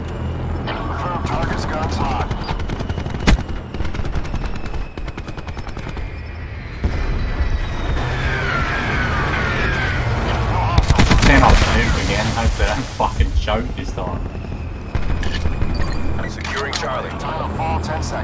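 Gunfire in the video game Call of Duty: Black Ops 4 comes as repeated bursts of automatic fire and scattered single shots over about eighteen seconds. Game radio chatter and talking run throughout, with an especially dense volley midway.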